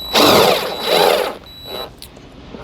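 A power drill backs a screw out of a tongue jack cover, with two sustained whirring bursts close up followed by a shorter third spin and a faint clink.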